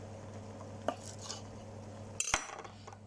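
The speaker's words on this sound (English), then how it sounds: "get that out onto a chopping board, just cut it in half." A knife cuts cooked chicken on a chopping board in a kitchen, giving a few sharp knocks and clatters, one early and a louder cluster near the end, over a low hum.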